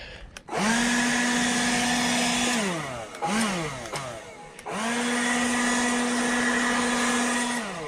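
Leaf blower blowing dirt, leaves, sticks and twigs off a surface, a loud, close, steady roaring whine that revs down, briefly restarts, and then holds a sustained blast again.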